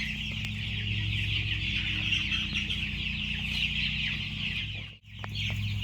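Hungry chickens and a rooster on a farm at morning cluck and chatter continuously as a dense, close flock, with a low steady hum underneath and a brief drop near the end.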